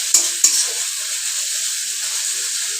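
Pumpkin frying with dried shrimp in a pan, a loud steady sizzle and hiss close by, opened by two sharp utensil clacks as it is stirred.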